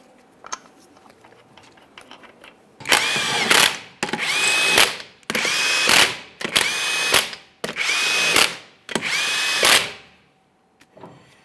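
A power tool runs 21mm lug nuts onto a 2015-2020 Ford F-150 wheel in six loud bursts of whirring and rattling, each about a second long with short pauses between, close by and with no talking.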